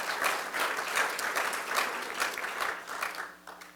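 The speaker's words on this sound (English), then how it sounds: "if we can give all of these folks a round of applause" Town hall audience at a Highway 37 meeting gives a steady round of applause, dense overlapping claps at close to moderate distance, holding for a few seconds before starting to taper.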